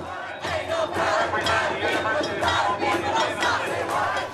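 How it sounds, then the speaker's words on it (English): A crowd of UC Davis students protesting a fee hike chants loudly in unison, rhythmic shouted phrases repeating and filling the space, no single voice standing out. "students responded by chanting louder"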